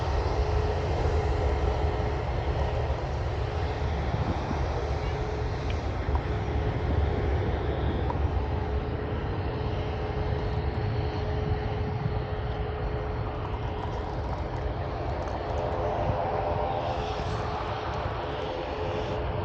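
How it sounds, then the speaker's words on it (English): A TAP Embraer E190 LR jet takes off at Manchester Airport, its engine roar a continuous broadband rumble that stays loud and fairly near throughout before shifting slightly as it climbs away. "plane going off, and she's going to Lisbon, and she's a Embraer E190 LR, that stands for long range."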